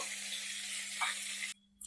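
Prawns frying in hot oil for a Bengali chingri recipe give off a steady, bright sizzle, fairly close, that cuts off abruptly near the end, leaving a brief quiet pause.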